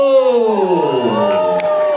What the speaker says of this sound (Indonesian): Langsung saja tepuk tangan untuk Arif Didu